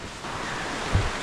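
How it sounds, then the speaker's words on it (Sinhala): Seasonal mountain streams running full in the rainy off-season along the Nallathanni–Hatton route to Sri Pada make a steady broadband rush of water, with a short, slightly louder surge near the end. "මේ වතුර පාරවල් ඔක්කොම සක්‍රිය වෙලා තියෙන්නේ. මේ දිය පාරවල්."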